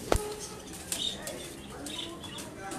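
Pigeons and parrots kept together on a rooftop make a sudden burst of wing flapping close by, followed by faint chirps and light rustling in a quiet space.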